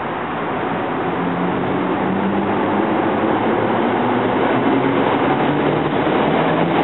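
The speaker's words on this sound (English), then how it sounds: "it's an R3 West Trenton, the 830 train, pulling into 30th Street Station" A SEPTA R3 West Trenton commuter train pulls into 30th Street Station at night, its loud, steady rumble and rolling noise filling the platform without letting up.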